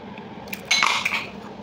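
A metal pressure cooker lid comes off after cooking dal, with a short, bright metallic clatter and clink over a quiet kitchen background.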